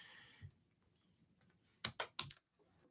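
Keys clatter on a computer keyboard while a variable is entered into math software, a few soft taps followed by a quick burst of three or four sharp, close clicks, then quiet.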